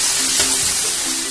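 Loud, dense sizzle of a wet spice paste frying in oil in a pan for a Bengali hilsa and eggplant curry, a steady close hiss with little variation and no talking.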